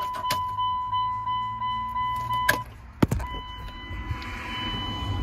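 Power windows on a 2000 Dodge Ram Cummins truck whir in short repeated motor pulses, followed by clunks and clicks that sound like locks or mirrors, all close and moderately quiet inside the cab.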